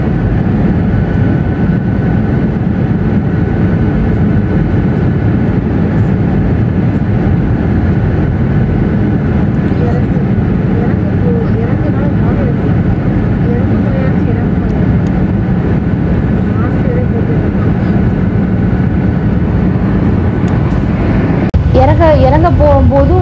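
Inside an airplane cabin during landing, a loud steady engine and air roar drones for over twenty seconds with shaking rumble, and a voice briefly rises near the end.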